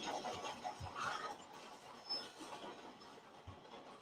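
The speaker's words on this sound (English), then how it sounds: "That train would have hit me." A train in Red Dead Redemption 2 rumbles through a tunnel with a steady rolling clatter of rail cars and a few low thumps. The sound is fairly faint and fills the clip, with no voices.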